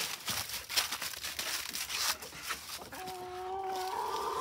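Chickens in a backyard walk-in coop built from pallets make faint scratching and rustling sounds up close, followed near the end by a few short clucking calls.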